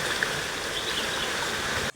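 Rain falls steadily over a home courtyard, a soft, even hiss with no pauses and no voices.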